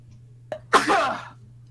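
A single sharp sneeze close to the mic, a brief intake followed by a loud burst that trails off over about half a second, against a steady low hum in a quiet room.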